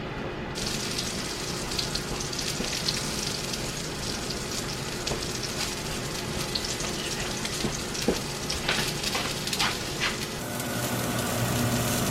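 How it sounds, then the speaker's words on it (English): A pork chop sizzles loudly in a smoking-hot pan, a dense, steady crackle starting abruptly and continuing unbroken, with scattered sharper pops and spits throughout. "It's a little bit smoking, so I'm gonna toss the pork chop into the pan."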